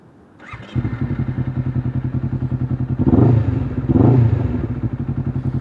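A Honda CBR 250 RR twin-cylinder motorcycle with an aftermarket exhaust cranks and fires up, then settles into a loud, lumpy, pulsing idle, blipped twice with a raspy exhaust bark, close by.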